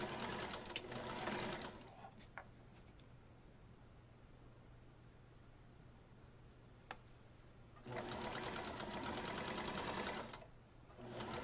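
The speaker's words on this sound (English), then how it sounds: "I'm trying to sew like other people do" Sewing machine stitching seams between two pieces of fabric, in two loud running bursts at the start and end, separated by a quieter stretch of hum and small handling clicks.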